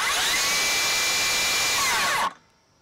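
A Milwaukee 18V cordless rear handle saw runs with a loud, high-pitched motor whine, then cuts off quickly to near silence.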